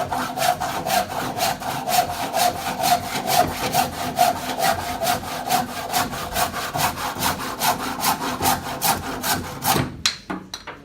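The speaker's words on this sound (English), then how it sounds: "on the push down, you want to push as hard as you can, and try to use the full length of the saw" Hand saw cutting through wood, a steady rhythm of rasping push-and-pull strokes close up, about two strokes a second, stopping near the end.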